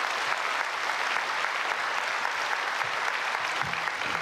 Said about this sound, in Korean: 나오실 때 우리 크게 박수로 환영해 주시면 감사하겠습니다.